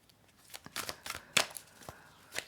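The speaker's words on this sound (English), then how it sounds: "I'm going to do one quick shuffle" A single quick shuffle of tarot cards, a few soft riffling and flicking bursts close by in a quiet room.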